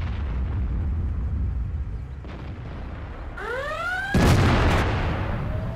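A tank cannon fires in World of Tanks, a single heavy boom landing near the end over a constant rumbling engine background, preceded by rising whistling tones.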